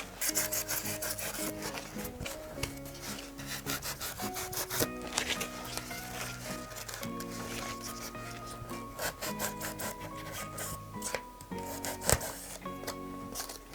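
Styrofoam being cut and trimmed to shape the neck of a Mickey Mouse figure, a steady rasping, sawing scrape repeating close by with no talk, though music-like tones also run throughout.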